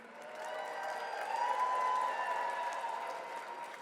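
An audience at an evening preservation awards program claps and cheers for honorees, a steady wash of applause swelling slightly in the middle and fading toward the end, heard from within the hall.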